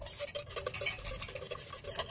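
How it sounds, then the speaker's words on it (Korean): Acorn powder and water stirred together in a pot while making acorn jelly: soft, rhythmic scraping and swishing of a utensil against the pot, fairly quiet and close, with no talking. "도토리 가루와 물이 잘 섞일 수 있도록 좀 저어주셔야 돼요"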